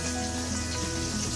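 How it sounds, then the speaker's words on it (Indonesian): Salted fish fries in a pan on a stove, giving off a steady, soft sizzle and crackle with no talking. "Sebelah goreng ikan asin"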